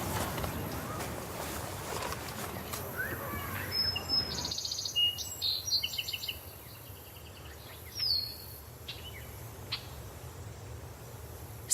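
Tits calling among fruit trees in a Paris orchard, with brief high chirps and twittering notes scattered over several seconds, moderately near, above a rumbling, washy background that fades partway through.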